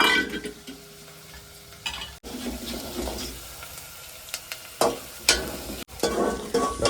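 Onions fry in a pan for dal fry, giving a soft sizzle broken by clattering stirs and scrapes of a utensil against the pan, close by and fairly quiet.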